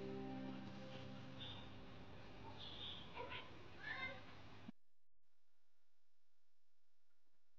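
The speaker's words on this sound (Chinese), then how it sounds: "哪来了一只小猫？" A kitten meows outdoors in a yard during cold wind and rain, giving a few short, thin cries over steady wind noise before the sound cuts to silence.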